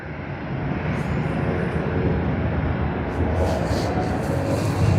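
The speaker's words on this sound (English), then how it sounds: "we do have Japan Airlines, so let us capture it taxiing" Japan Airlines jet taxiing at Sydney Airport, a steady low engine roar with a continuous whine, fairly even in loudness throughout.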